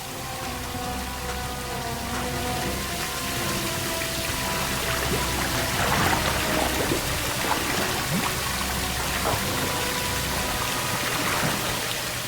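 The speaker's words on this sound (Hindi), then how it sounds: "पानी बंद करो।" Water runs and splashes steadily for the whole stretch, a dense, even hiss with scattered drips and spatters, fairly close and with no voices over it.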